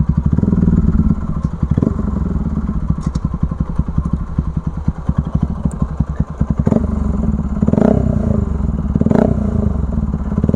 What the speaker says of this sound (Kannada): ಎಕ್ಸಾಸ್ಟ್ ನೋಟ್ ಕೇಳಿಸ್ಕೊಂಡ್ಬಿಡಿ ಒಂದು ರೌಂಡು